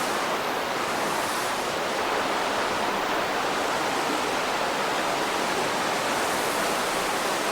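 Stream water rushes continuously through Robbers Cave (Gucchupani) near Dehradun, a dense, even roar of flowing water that fills the whole stretch without pause or voices.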